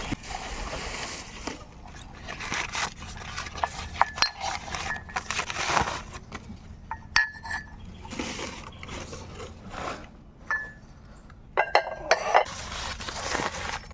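Handmade village clay pottery, including a frying pan, cooking pots, a glass and clay spoons, clinks and clatters as it is handled: scattered light knocks and scrapes close by, with brief sharper clacks near the end.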